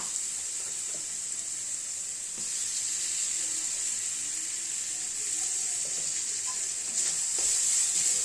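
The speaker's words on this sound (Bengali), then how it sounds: "যাতে রসুনটা তাড়াতাড়ি ভাজা হবে," Garlic frying in a pan with salt added while cooking bottle gourd raita, a continuous close sizzle with occasional stirring scrapes and clinks, steady and unbroken.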